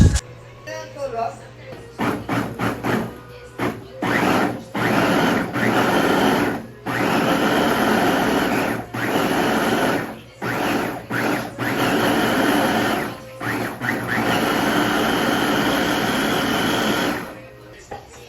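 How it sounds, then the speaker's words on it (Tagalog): A blender whirs through vinegar ingredients in repeated bursts of varying length, starting and stopping many times, loud and close, with short pauses between pulses. "takpan na natin at i-blender na natin"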